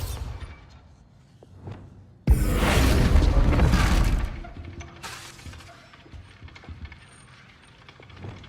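A Bombarda blasting spell in Hogwarts Legacy sets off a sudden loud explosion with shattering, crumbling debris that lasts about two seconds, then settles into faint rumbling and clatter.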